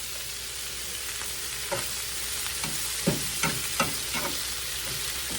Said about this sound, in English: Take it and toss it around in there and get that bacon grease and stuff, all that goodie out of that skillet on there.